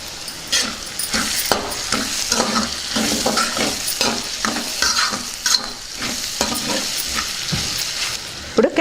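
Vegetables frying in a pan with ginger garlic paste, a loud close sizzle punctuated by rapid rhythmic stirring scrapes of a spoon across the pan.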